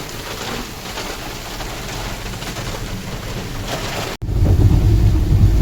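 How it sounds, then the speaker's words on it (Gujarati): A heavy windstorm with rain and thunder lashes the area. A loud, constant roar of wind and rain runs throughout and grows deeper and heavier after a brief cut near the end. "કઈ દેખાય નહીં એટલો પવન ને વરસાદ છે"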